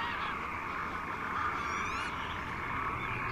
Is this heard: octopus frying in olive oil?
no